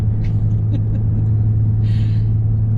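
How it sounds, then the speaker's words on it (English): A truck idles or rumbles nearby on a travel day, a steady loud low drone filling the whole clip with a brief hiss partway through, no talk over it. "there's a truck up here, so I'm gonna move"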